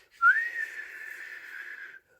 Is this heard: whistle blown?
yes